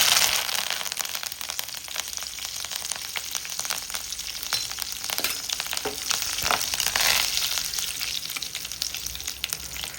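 Curry leaves and mustard seeds hit hot oil in a pan for a prawn thokku tempering, giving a loud, close, continuous sizzle dotted with sharp crackles and pops.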